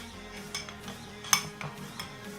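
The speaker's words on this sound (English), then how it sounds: "So let's give this a good mix around." Spoon stirring a smoked salmon mixture in a bowl, a few faint scraping strokes and one sharp clink of utensil on the bowl, quiet and without talk.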